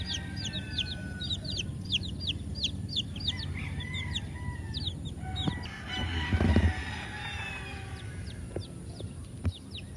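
At a large Philippine poultry farm, chickens and young chicks peep and chirp continuously, with a rooster crowing and clucks rising over a low barn hum; no speech is heard.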